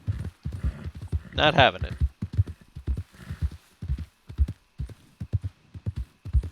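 Horse hooves clip-clop in a video game, steady rhythmic thuds close by, with a short neigh partway through while someone talks over them.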